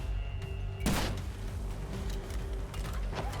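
Gunfire in the Battlefield 4 campaign, South China Sea level: one loud, sharp shot near the start stands out, with lighter scattered shots and mechanical clatter over a constant low game rumble.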